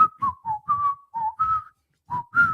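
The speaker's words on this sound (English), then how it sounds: "whistling." A person whistles a short, bouncy tune of about eight clear notes in quick succession, close and alone, with a brief pause before the final two notes.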